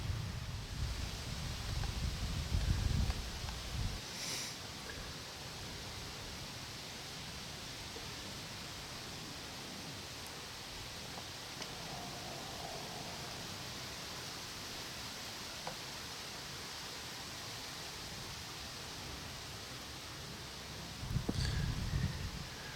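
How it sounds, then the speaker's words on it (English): Steady wind rushes throughout at a hunting stand, with low buffeting gusts at the start and end, loud and close, with no voices. "Pretty windy up here."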